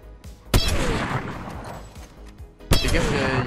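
Gunfire in a battle royale shooter game, two loud sharp shots about two seconds apart, each followed by ringing echo and rumble, with a player talking underneath.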